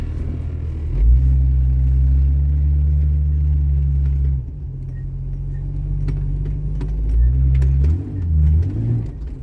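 A 1996 Jeep Cherokee XJ with a newly installed front axle drives in four-wheel drive. Its engine gives a deep, loud rumble that rises and falls as it pulls and revs, with a dip midway.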